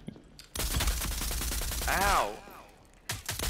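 Rapid, dense gunfire rattles continuously for several seconds in a 3v3 shooter video game, loud and close, with a short pained shout at the start.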